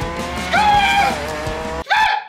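A car pulls away with loud squealing tires, a sustained high-pitched skid over engine noise, then a sharp cut followed by a second, shorter squeal.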